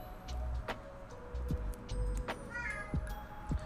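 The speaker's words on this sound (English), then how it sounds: "Did you hear the meow?" A few short cat meows sound quietly among scattered clicks and light handling noises of LEGO pieces being assembled.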